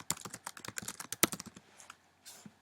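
Quick, quiet clicks of keys on a computer keyboard come in an irregular burst, one sharper tap standing out near the middle before the typing thins out.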